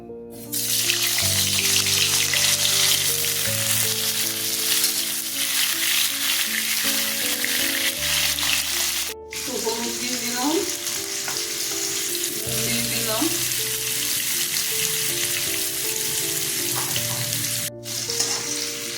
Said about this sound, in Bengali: তেল গরম হয়ে গেছে আমি আলুগুলো ভেজে নিচ্ছি